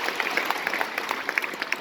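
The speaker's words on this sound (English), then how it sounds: "you can give them a round of applause" Faint, distant audience applause at a school Christmas concert, a thin patter of scattered claps over a short moment with murmuring in the room.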